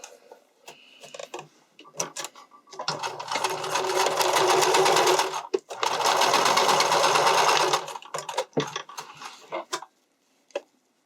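A sewing machine stitches bikini top fabric in two long steady bursts of rapid whirring, with short stops, clicks and handling noises between them, close and loud.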